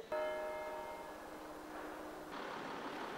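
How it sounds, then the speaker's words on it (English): Church bells ring at Howden Minster, a 13th-century church in a small market town, with sustained metallic tones over a rumbling, dense wash of overlapping peals, moderately distant. "the ringing of the bells day and night is violating their human rights"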